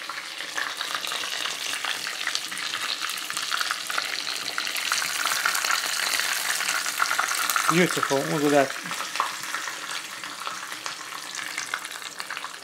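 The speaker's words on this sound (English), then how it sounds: "And just all the oils coming up, dripping off this thing." Food frying in oil in a pan, with fat dripping, makes a steady crackling sizzle throughout. A brief lower stirring or scraping sound comes partway in, and a voice speaks quietly over the cooking.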